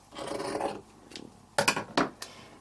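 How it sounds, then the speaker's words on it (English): Scissors cutting away the seam allowance of foundation-pieced quilt fabric: a short rasping rub followed by several crisp, close snips in quick succession. "I'm going to cut that seam allowance away so that that's not showing"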